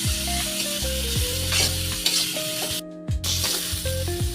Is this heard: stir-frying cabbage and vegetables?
yes